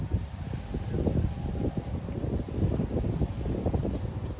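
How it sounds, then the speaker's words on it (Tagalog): Steady wind buffeting the microphone, a low rumbling roar with gusty surges throughout and no voices. "Mahangin ngayon."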